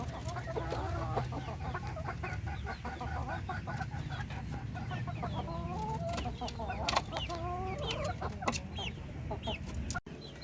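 Laying hens in a poultry house cluck and chatter continuously, many birds at once, over a low steady hum of background noise, moderately close with no one talking.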